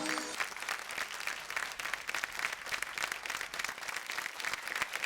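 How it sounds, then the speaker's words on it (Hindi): Loud, steady applause and clapping from a live audience welcoming Uttar Pradesh Deputy Chief Minister Brajesh Pathak at a Bhojpuri folk music show's grand finale, sustained without pause throughout. "जोरदार ताली से स्वागत करी जा माननीय ब्रजेश पाठक जी"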